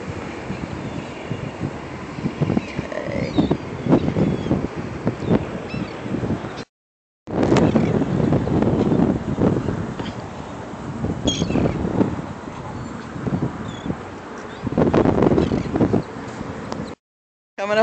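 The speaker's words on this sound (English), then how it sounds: "Coming up on the beach, and it's sort of a windy day." Wind blows steadily along a beach on a breezy day, a broad roaring rush with gusty swells and a few brief dropouts, near and fairly loud, with no voices over it.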